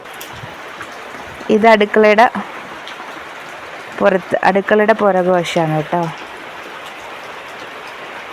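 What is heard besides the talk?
heavy rain falling behind the kitchen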